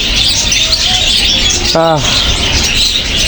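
A single short lovebird call rises in a quick chirp over a steady wash of background noise in a pet shop, with faint brief tones before it.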